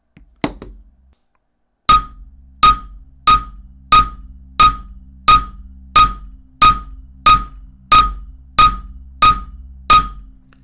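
A single knock, a pause, then a steady series of about a dozen sharp hammer strikes on an Apple Watch Ultra glass screen protector, evenly spaced, each ringing briefly.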